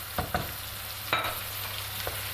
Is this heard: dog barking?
no